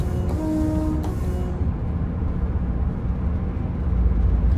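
A Class 802 train rumbles past in the Train Sim World 6 simulator, a steady low roar with brief tonal whines early on that builds slightly heavier toward the end.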